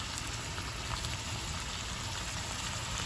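Ackee and saltfish cooking in a pot give off a steady, close sizzling hiss without breaks, with no distinct stirring strokes standing out.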